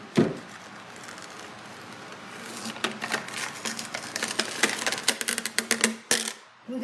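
A paper label being peeled off a plastic container, with soft glue holding parts of it, giving close, dry tearing crackles and rapid sharp ticks that grow denser and louder toward the end, no speech.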